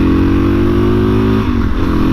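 A Suzuki DRZ motorcycle engine runs loud and close, holding a steady rev before dipping briefly and picking up again, its droning note thick with wind rush, no voices.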